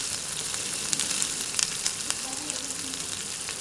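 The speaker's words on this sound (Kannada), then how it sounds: "ನೀಟಾಗಿ ಫ್ರೈ ಆಗ್ತಿದೆ ನೋಡಿ. ಇದು ಗೋಲ್ಡನ್ ಬ್ರೌನ್ಗೆ ತಿರುಗಬೇಕು." Bread slices roasting in a hot pan give a steady, close sizzle, with small crackles and light pops scattered across it.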